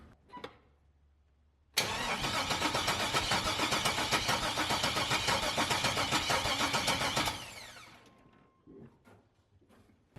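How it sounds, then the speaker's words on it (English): A twin turbo car engine cranking over with the throttle open for a compression test, a steady, fast rhythmic churning that runs about five seconds and then stops abruptly, with faint handling noises before and after. "we're going to crank it over with the throttle opened for about 4 or 5 rotations"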